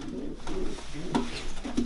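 A breeding pigeon coos in soft low rolling calls repeated several times, close by over a steady room background, with no talking.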